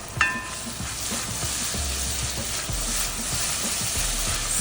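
Cajun shrimp boil ingredients with lemon sizzle in a hot pot while being stirred, a steady crackling fry overlaid with soft scraping strokes, close and continuous.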